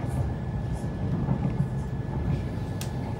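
A train rolls past on the rail line in Tyrol, near Innsbruck, as a steady, loud rumble with no breaks for the whole stretch, close by and drowning out most other sound.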